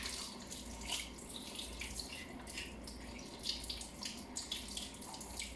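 Ingredients for a herbal remedy are washed under a running kitchen tap, with a steady gushing stream broken by irregular splashes as the water hits them, and no talking.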